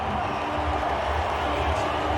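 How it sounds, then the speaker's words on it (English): Crowd at a 2007 West Indies vs Sri Lanka cricket match cheering a Chanderpaul shot, a steady, loud roar of stadium noise with a low rumble throughout, no distinct claps or speech standing out. "And now Chandrapal sends the crowd into ecstasy"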